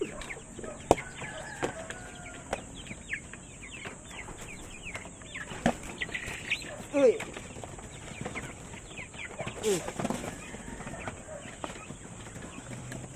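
Chickens cluck and peck in scattered bursts, with occasional sharper squawks, fairly faint against a steady insect-like hiss.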